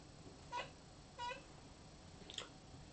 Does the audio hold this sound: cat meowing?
yes